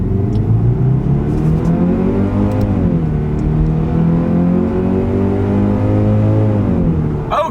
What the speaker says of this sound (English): let's test out the acceleration of our new 2025 Kia Sportage